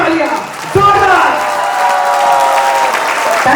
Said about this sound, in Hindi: तो मैं चाहूंगा ग्रेवाल साहब के लिए अब तक की सबसे जोरदार तालियां, जोरदार।